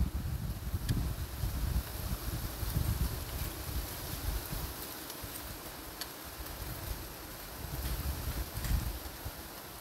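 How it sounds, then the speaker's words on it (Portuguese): Strong wind buffeting outdoors in open pasture near a forest during a drone flight, a continuous loud roaring rush with gusty swells throughout, no talking. "Agora ventou muito mesmo."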